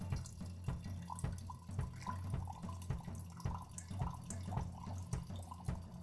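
Hot water pours through a paper filter in a Moccamaster coffee maker and trickles into the carafe below, a soft, steady stream with light splashing and drips, fairly quiet and with no voices.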